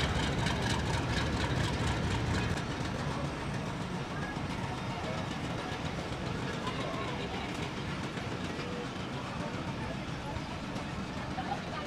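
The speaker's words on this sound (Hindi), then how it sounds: "45 पाकिस्तान एक्सप्रेस ने रवानगी पकड़ लिया यहाँ से सांगला जंक्शन से" The Pakistan Express passenger train departs Sangla junction, its steady rumble and rolling clatter continuous and close throughout, with someone talking over it.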